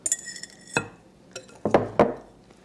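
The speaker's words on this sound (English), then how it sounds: "That's why I'm using my wire whisk to kind of combine this." A wire whisk works through pancake batter in a bowl, giving a few sharp metallic clinks and taps against the side, spaced unevenly with quiet gaps between.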